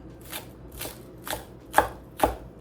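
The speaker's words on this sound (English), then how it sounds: "So we're just going to cut these up" A knife rough-chops green onions on a cutting board for an egg roll in a bowl, giving five evenly spaced dull chops, the last two louder and sharper, heard alone up close.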